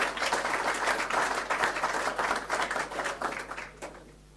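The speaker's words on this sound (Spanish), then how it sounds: "Un aplauso, por favor, para Tecnotambores." A seminar audience applauds a sponsor in a hall, many hands clapping in a dense, steady roar that holds for several seconds, then thins out and fades near the end, with no voices over it.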